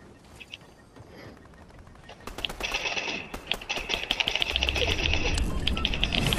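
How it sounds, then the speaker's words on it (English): Bursts of rapid automatic gunfire from AI enemies in the Fortnite video game rattle in irregular volleys, growing louder and denser toward the end, with no speech. "is that the AI shooting at us?"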